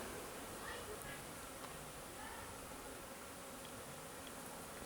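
A steady, faint drone of many honey bees fills the air at a hive in an apiary during a sunny January cleansing flight, a diffuse buzzing swarm heard from nearby.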